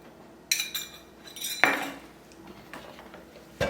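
Green pistachio tres leches cake batter mixed in a bowl: a few distinct clinks and scrapes of a utensil against the bowl, spaced irregularly with quiet gaps, the loudest knock at the middle and another near the end.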